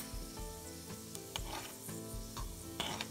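A moussaka mixture with cinnamon and cumin stirred in a pan, soft scraping strokes and gentle sizzling in a steady rhythm, quiet and close, with no talking.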